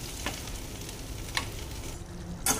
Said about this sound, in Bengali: জলটা ঢেলে দিচ্ছি